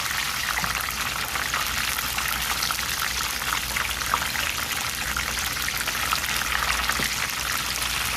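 Egg rolls frying in hot oil give a steady, dense sizzle and crackle, loud and close and unbroken from start to finish, with no one talking.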